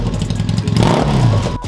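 A motorcycle engine runs close and loud with a steady idle rumble and clattering pulses. Its pitch rises briefly as it revs, then cuts off abruptly.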